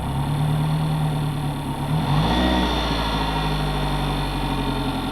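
A Yamaha outboard engine hums loudly and steadily with a rapid pulsing tick from the oil filter, its pitch shifting briefly as the revs change partway through.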